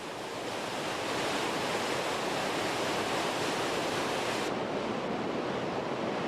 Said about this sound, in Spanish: La cascada está dividida en 3 caídas de casi 200 metros cada una.